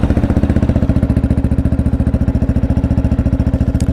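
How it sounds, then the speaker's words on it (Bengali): A GPX Demon 250 motorcycle engine running close by at a steady idle, with a loud, even, rapid thumping exhaust pulse and a slight mechanical clatter, heard alone. "তো বাইকের সাউন্ডটা যদি শোনাতে চাই একটু"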